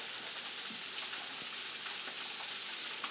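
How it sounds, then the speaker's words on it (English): Fish sears in a hot pan with a steady, even sizzle and faint crackles that hold at a constant level throughout, close up, with no voices. "we're waiting for this fish to sear for about 6 minutes"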